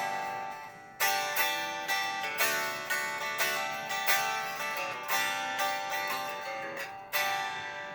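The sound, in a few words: Westcreek Cerberus electric guitar played unplugged, acoustically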